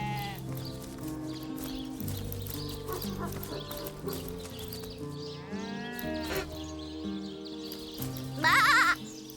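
Sheep bleat in the video game Divinity: Original Sin, several wavering bleats over steady game music, with one louder, closer bleat near the end.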